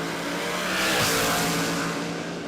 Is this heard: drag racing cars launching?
yes